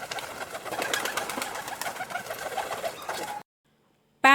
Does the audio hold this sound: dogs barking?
no